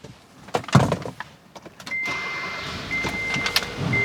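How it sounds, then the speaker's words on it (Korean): Kia K3 1.6 GDI car engine being started from inside the cabin, a few clicks and knocks followed by a whirring starter and a steady idle hum with a faint electronic tone, close by. "그 다음에 한번 시동을 걸어 볼게요"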